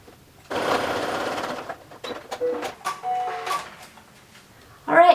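Home sewing machine stitching fabric right beside piping on a round fabric storage basket, a steady mechanical whir lasting under two seconds followed by short stop-start bursts of stitching, close and fairly loud.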